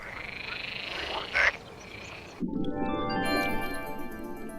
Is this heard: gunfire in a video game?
no